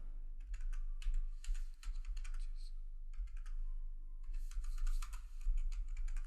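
Computer keyboard typing while sales figures are entered on the GST portal: quick bursts of close, crisp key clicks with short pauses between them, over a low steady hum.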